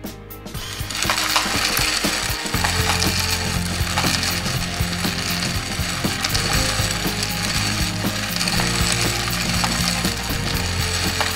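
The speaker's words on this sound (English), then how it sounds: "So I've dumped my bullets into the collator, and now I'll plug in the power" An RCBS rifle bullet feeder collator, loaded with bullets, starts up once power is plugged in and then runs with a dense, constant clatter of rattling and ratcheting bullets and mechanism, loud and unbroken.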